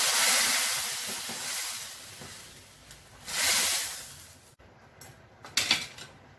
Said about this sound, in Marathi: गरम फोडणी या वरणात सोडून देऊया